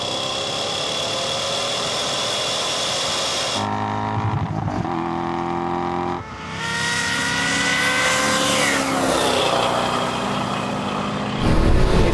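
A Toyota Supra and a Dodge Charger in a rolling drag race, with a loud engine roar that drops out abruptly and then surges back as a sustained high-revving pull toward the quarter mile, heard close up.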